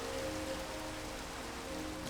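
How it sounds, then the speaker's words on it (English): Steady rain falling in Minecraft, a soft continuous patter of drops heard alone at low level, with a faint tonal hum beneath. "Unfortunately, it's raining"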